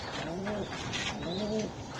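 A Budapest-type pigeon at a loft or pigeon market coos in two soft, rolling phrases close by, with faint background murmur behind it.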